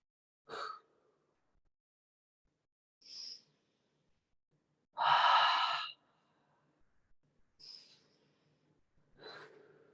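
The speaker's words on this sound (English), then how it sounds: "Taking 3 rounds of breath here." Slow, deep breaths taken while holding a yoga low lunge: several separate inhales and exhales spaced a few seconds apart, close and fairly soft, with one longer, fuller exhale in the middle and otherwise quiet gaps.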